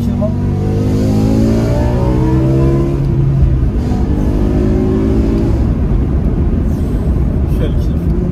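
A BMW M6 E63 with its V10 engine revs hard and loud, the rising howl climbing through the rev range while someone talks over it.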